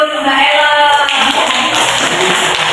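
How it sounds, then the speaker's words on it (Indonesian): A classroom of junior high school students clapping for a classmate, a dense close burst of hand claps that thins out partway through. "Tepuk tangan dulu untuk Mbak Ella."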